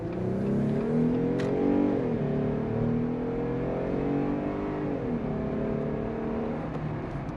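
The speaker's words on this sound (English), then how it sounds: "Nothing beats a naturally aspirated V6." A 2019 Jeep Wrangler Moab's naturally aspirated 3.6L V6 accelerates through the gears on a morning commute, a steady droning engine note that rises, dips at shifts around two and five seconds, then climbs again, loud and continuous from inside the cabin.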